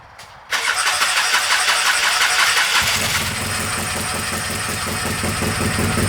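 A 1986 Honda ATC250 Big Red three-wheeler engine cranks briefly and catches abruptly, then runs loud and rough at a steady idle with a rising mechanical whine, no talking.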